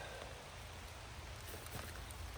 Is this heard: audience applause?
no